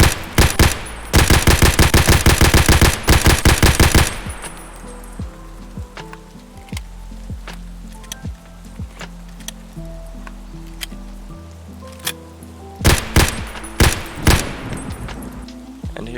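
Rapid automatic rifle fire from a weapon with an extended magazine in Escape from Tarkov: a loud sustained burst, then quieter scattered shots and movement, and finally a few more short bursts.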